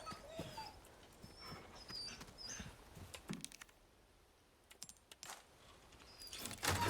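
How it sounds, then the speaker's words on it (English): A dog whimpers in a Resident Evil 4 Remake scene, thin high whines coming in short separate bursts over quiet game ambience, with faint clicking and scattered taps between them. "I hear a dog whimpering."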